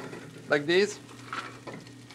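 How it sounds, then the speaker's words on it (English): Bacon lardons sautéing in a pan give a low, steady sizzle under a voice, with brief clinks of utensils near the start. "You start to saute your bacon."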